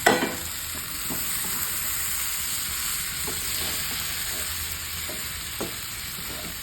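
Fish biryani masala with fried boneless seer fish stirred and fried in a pan, a continuous close sizzle with soft intermittent scrapes of the spoon, no voices.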